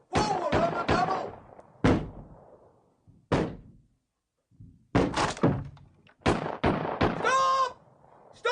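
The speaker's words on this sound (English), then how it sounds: "Battering ram! Forward on the double!" A battering ram pounds a door during a staged assault, with heavy wooden thuds landing one after another in irregular clusters, loud and close, separated by short gaps of quiet.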